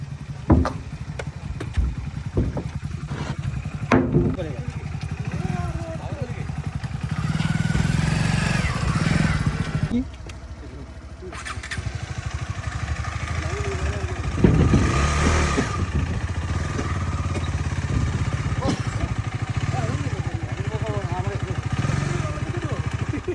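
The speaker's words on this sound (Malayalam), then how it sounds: "നമ്മളങ്ങനെ നമ്മളുടെ ബൈക്ക് തോണിയിലേക്ക് കയറ്റാൻ പോകാട്ടോ." A motorcycle engine idles and revs while the bike is loaded onto a small river boat at Perikkallur, Wayanad, Kerala, for a crossing to Karnataka. The engine runs steadily throughout, rising in bursts, with voices talking around it.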